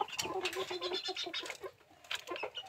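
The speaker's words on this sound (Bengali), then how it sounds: "এটা হচ্ছে মুরগ আর ওটা হচ্ছে মুরগি।" Fancy farm chickens, a rooster and a hen, cluck and call in a busy run of short, overlapping bursts close by, with a few sharper cries near the end.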